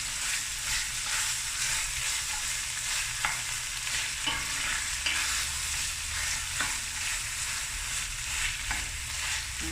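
Tomato stew cooked with sugar and liquor frying in a pot, a steady loud sizzle with regular soft knocks and scrapes of stirring throughout, no voices.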